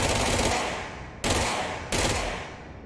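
Three bursts of rapid automatic gunfire in the Control video game, each dense volley loud and close, the first running about a second before cutting off, then two more shorter bursts with no talking.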